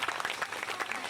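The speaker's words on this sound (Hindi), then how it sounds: "ताली बजा के प्रोत्साहित करियो नहीं दोनों बच्चा के" An audience at a prize distribution claps for two children, a short burst of close, dense applause with a voice heard through it.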